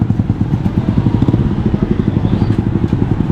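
A motorcycle engine runs steadily during a ride, its close, loud mid-pitched drone pulsing with a quick even rhythm and a light clatter throughout, with no talk over it.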